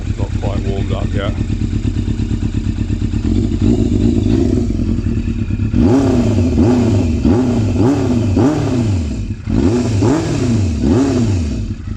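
A 1996 Yamaha Thundercat motorcycle engine, cold and not yet warmed up, idles with a loud steady chug, then is blipped through a series of sharp revs that rise and fall repeatedly, with someone talking near it.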